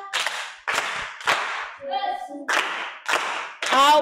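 A classroom audience claps for a pupil named Baraka in several short rounds of applause, with brief pauses between bursts and a snatch of voices in the middle.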